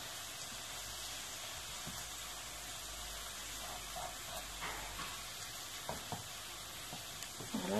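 Cheese melting in a pan with onion and courgettes, a quiet, steady sizzle with soft crackles and a few light stirring knocks toward the end.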